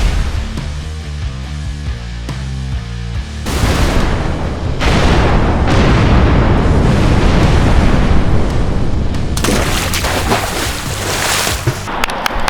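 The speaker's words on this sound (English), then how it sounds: "We're just gonna walk away with the globe exploding" A prop globe explodes on a film set with a loud, sustained roaring blast and rumble that follows a quieter musical lead-in, filling the rest of the stretch with dense, noisy energy.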